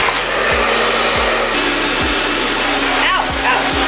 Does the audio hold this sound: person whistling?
no